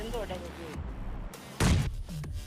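A grenade blast in PUBG Lite lands as a sudden loud boom partway through, amid other gunfire-like thumps. A voice talks over the start of the clip.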